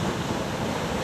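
Sea water at Tithal surges against a seaside protection wall, giving a steady, loud wash of surf and spray noise with no pause and no voices.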